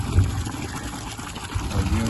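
Water pumps into a 900 litre tank as a steady, rushing flow with a low rumble underneath, continuous and fairly close.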